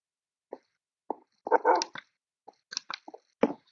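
A dog in the Minecraft video game gives a string of short, sharp barks and yelps, spaced unevenly over a few seconds against a quiet background.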